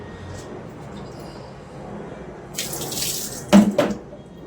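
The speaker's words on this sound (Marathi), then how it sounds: "लाटणं धुवून घेतलं आणि स्वच्छ कपड्याने पुसून घेतलं" A rolling pin rinsed under a running kitchen tap: quiet room tone, then a burst of gushing water and a few clunks near the end.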